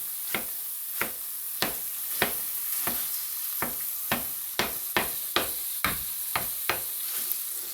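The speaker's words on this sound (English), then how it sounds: "Hear that sizzle" An egg substitute fries in a pan like scrambled eggs, a steady close sizzle punctuated by about a dozen sharp, regular scrapes and taps of a utensil as it is stirred, with no talking.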